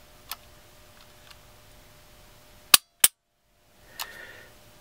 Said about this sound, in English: Now, side by side, we're just going to pull the triggers together.